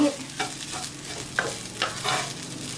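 Textured vegetable protein stir-frying in a pan for a vegetarian eggplant and basil dish, with steady soft sizzling and periodic scraping strokes of a spatula against the pan, close and clear with no voices.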